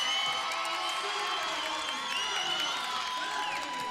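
A crowd cheers and whoops inside an arena at an Iowa versus Rutgers college volleyball match, a sustained, loud wash of voices with scattered high shouts.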